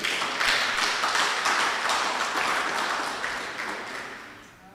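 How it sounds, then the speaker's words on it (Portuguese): A church congregation applauds during a sermon, a full, even wash of clapping that swells briefly and then fades away over about five seconds. "A igreja aplauda o Senhor por isso."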